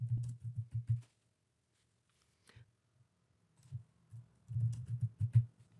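Typing on a computer keyboard, close and quiet, in short bursts of rapid key taps separated by a pause with a few isolated clicks.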